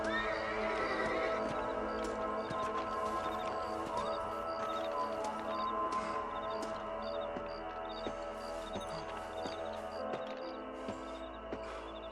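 Horses whinny and snort over steady clip-clopping hooves in the video game Red Dead Redemption, with game-like ambient music and effects layered underneath, continuous and moderately loud.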